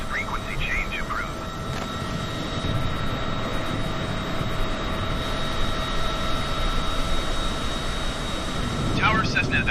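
A Cessna engine drones steadily in Flight Simulator 2020, a constant mid-level hum under radio chatter throughout.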